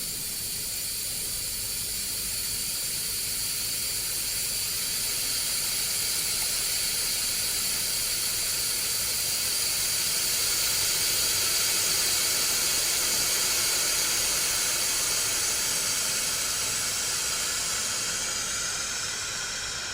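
Air hisses steadily through the inlet of a vacuum chamber used for stabilising wood, a continuous bright broadband rush that holds loud for about twenty seconds and swells slightly toward the middle.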